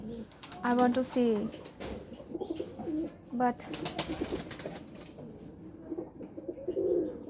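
Pigeons coo and flap their wings in a loft, with bursts of wingbeats and low cooing under a person talking throughout.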